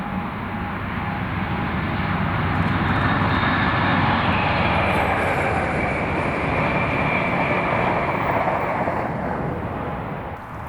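Class 47 locomotive 47712 hauling the Crewe to Edinburgh train with a DBS Class 90 on the rear, passing Bodsbury: a loud, steady broadband engine roar and rumble sustained throughout, with no talk.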